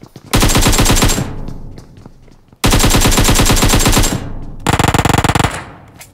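Automatic rifle fire in the mobile battle-royale game PUBG Mobile, aimed at a loot crate: three loud, close bursts of rapid shots, the last one sharper and faster, each tailing off between volleys.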